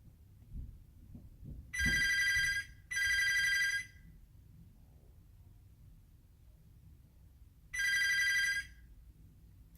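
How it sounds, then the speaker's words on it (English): Telephone ringing in a room, three loud electronic ring bursts about a second each, two close together and a third after a pause, over a quiet background with a few faint thumps. "Well, the phone rings."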